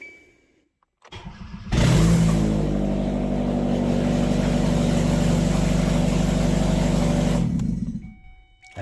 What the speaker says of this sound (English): I put the engine in and it should start up